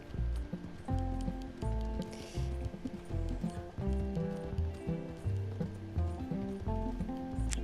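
Steady clip-clop of horse hooves trotting along in the video game Red Dead Redemption 2, close and rhythmic, over a background of music.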